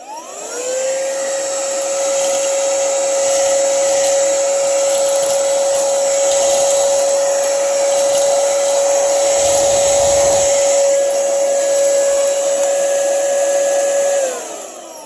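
A LANNIU 2-in-1 compressed air duster and vacuum with a 110000 RPM motor whirs up to a high, steady whine, holds loud and close, then spins down, with no talking.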